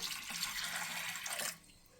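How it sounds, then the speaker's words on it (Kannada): Water streams steadily into a cooking pot for a leafy greens saaru, a close, rushing pour lasting about a second and a half before it stops. "ಇವಾಗ ಇದಕ್ಕೆ ಎಷ್ಟು ಬೇಕೋ ಅಷ್ಟು ನೀರು ಹಾಕೊಳ್ಳೋಣ"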